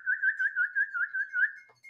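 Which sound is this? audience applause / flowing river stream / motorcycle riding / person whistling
person whistling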